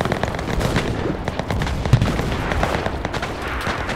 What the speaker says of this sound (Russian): Нужна поддержка артиллерии! Принято! Артиллерия!